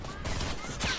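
A gunshot from a Fortnite duos match lands a headshot, a short sharp crack over busy game noise with faint whooshing.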